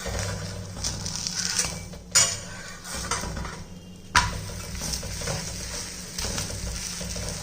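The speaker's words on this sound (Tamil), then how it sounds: "பிரட்டி போட்ட பக்கமும் 2 நிமிஷம் நல்லா வேகட்டும்" A ragi roti cooks on a hot pan after being flipped, giving a steady close sizzle with a few sharp clinks and scrapes of a utensil against the pan.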